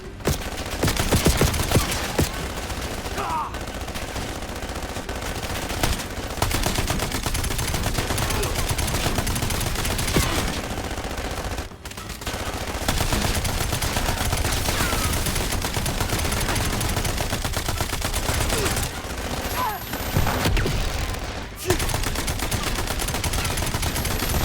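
Dense, continuous gunfire and automatic bursts fill a combat mission in the Black Ops 7 shooter game, nearly unbroken. Game voices speak faintly beneath the shooting.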